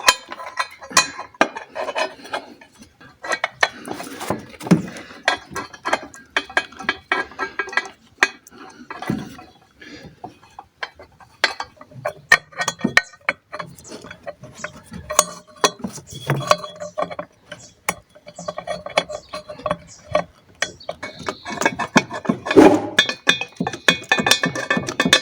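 Ratchet and socket working on an engine intake manifold, with irregular close metallic clicks, clinks and light scraping rattles scattered throughout, fairly quiet and with no talking.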